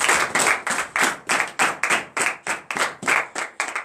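A congregation at a morning prayer service claps together in a steady rhythm, about three sharp, loud claps per second throughout, with no voices over them.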